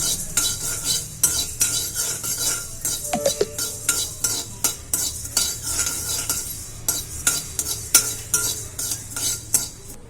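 Coriander seeds are dry-roasted for rasam powder while a metal spoon stirs them around a pan, producing constant rattling and scraping with frequent sharp clinks against the metal, close and busy throughout.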